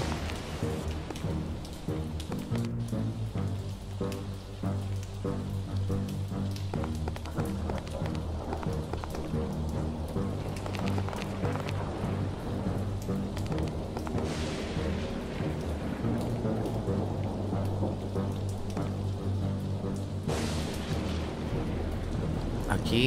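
Steady rain pours in the video game Lucius II, with heavy thunder rumbling through it and a louder crack or two.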